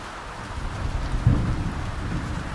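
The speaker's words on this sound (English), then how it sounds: "The storm does look like it's passing by, though." Thunderstorm in the sailing game Sailwind: steady heavy rain hiss with a low rumble of thunder swelling midway, continuous and fairly close, no talking.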